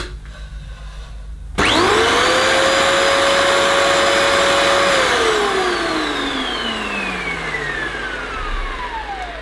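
Dyson DC28 Airmuscle Animal upright vacuum cleaner switched on, its motor whining up to a loud steady roar, holding for several seconds, then winding down in pitch as it is switched off, with no voices.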